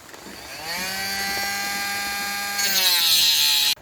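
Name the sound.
cutting rubber CV boot near reluctor ring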